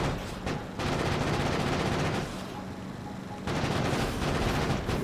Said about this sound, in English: Just throw the grenades.